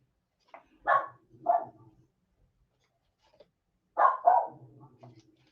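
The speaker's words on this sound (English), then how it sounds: "That's my dog barking for some reason." A dog barks in two short bursts, a pair of close barks followed after a pause by another pair, moderately near and clear in an otherwise quiet room during a tabletop hockey game session.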